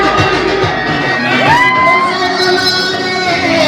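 A loud crowd shouts, whoops and cheers during a Ganpati immersion procession in heavy rain, with a DJ playing nearby and a rising whistle-like tone cutting through the dense, continuous roar.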